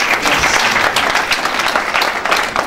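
Church congregation applauding and cheering during a sermon, a dense, steady wave of loud clapping from a large crowd that fills the whole stretch without pause.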